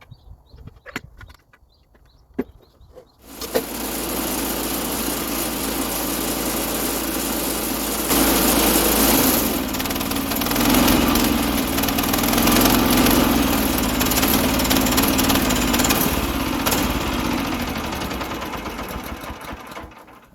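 A gas-engine sawmill runs steadily and loud, its motor droning for roughly seventeen seconds as the blade cuts a slab from the bottom of a log, after a few quiet knocks at the start.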